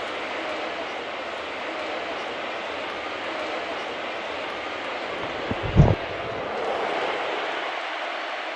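A train rumbles past near a baseball stadium during a Dodgers game, a steady broadband roar holding the whole stretch, with a brief louder low thump near the middle and no talk over it.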